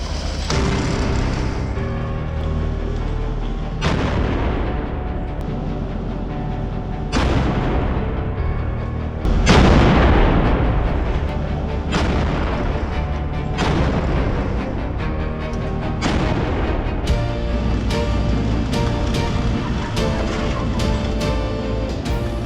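A Leopard tank cannon fires shells again and again, about a dozen loud blasts at irregular intervals, each rolling and echoing into the next.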